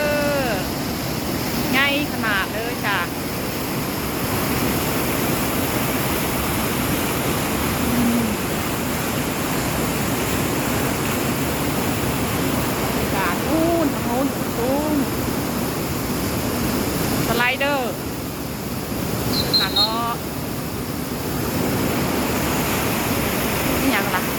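Flowing water at a hotel water park in Dubai, a constant loud rushing wash that carries on throughout, with people talking and calling out over it.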